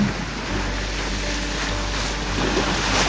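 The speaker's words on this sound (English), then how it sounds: "Wind's building nicely, doing 10-12 knots at times." Wind rushing past a sailboat on the Solent during a racing regatta, a steady broadband roar with low buffeting and faint water wash, no talk.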